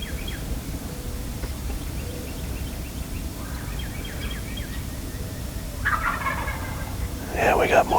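Wild turkeys gobble during a Kansas turkey hunt, several rattling calls at a distance, the loudest bursts near the end, over a steady outdoor wind-like background.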